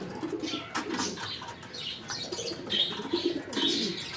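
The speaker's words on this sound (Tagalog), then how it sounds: "Yan, mga racing pigeon na yan." Racing pigeons cooing nearby in soft, repeated low calls, joined by a few chirps and brief wing flutters.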